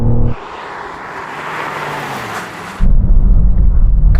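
A car roars at 100 mph, then a broad rushing noise of hard braking on cold tyres and cold brakes for a couple of seconds before engine rumble returns, loud and close.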